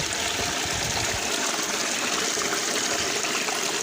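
Waterfall water pouring in a Boboiboy video game, a dense, steady rushing hiss that stays continuous and fairly loud throughout, with no voices.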